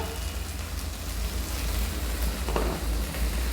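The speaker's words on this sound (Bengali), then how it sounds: "এটা দিয়ে ভালোভাবে ভেজে নেবো মশলাটা" Paste of poppy seed, ginger and green chili frying in a pan, a steady, close, even sizzle with no pauses and no voices.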